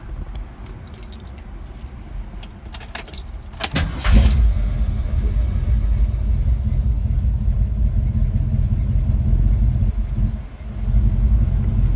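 A 1966 Ford Mustang GT's cold engine starts with a brief crank and settles into a steady, close idle, with some jingling and clicks before it catches.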